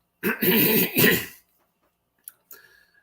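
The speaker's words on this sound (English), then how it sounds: "Got a bit of a mucus problem here, so I'll be clearing my throat a lot" A person with mucus in the throat clears it close up in two harsh rasping bursts during a live stream, followed by silence and a couple of small clicks.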